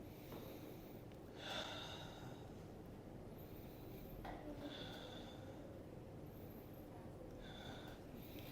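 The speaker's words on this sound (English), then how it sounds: "take 3 deep breaths again" Deep breaths during a TRE tension-release stretching exercise come as slow, breathy inhales and exhales, a few audible breaths spaced seconds apart over faint room noise.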